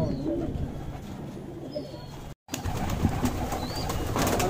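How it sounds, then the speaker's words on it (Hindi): Madrasi pigeons in a loft in Gurgaon coo softly as they peck at grain from a feeder. The low, intermittent cooing sits close over a busy, noisy background. "तो भाई कबूतर है, दाना चुग रहे हैं।"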